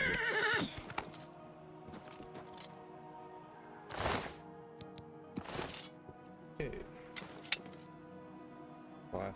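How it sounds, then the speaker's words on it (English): In a video game, a horse whinnies sharply at the start, followed by scattered hoof clops and further faint neighs over a quiet background, with brief louder bursts spaced apart. "Leave the horse alone."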